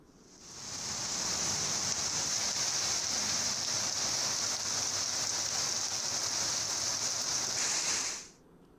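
Steady, heavy rain pours down continuously in Panjagutta, Hyderabad, a dense hiss fading in at the start and cutting off near the end, with no voices.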